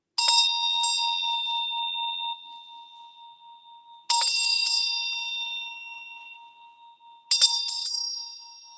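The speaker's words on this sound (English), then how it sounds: "I ring this bell to honor a Circle" A ritual bell rung three times at a full moon circle gathering, each clear bright strike ringing out and slowly fading before the next, in a quiet room.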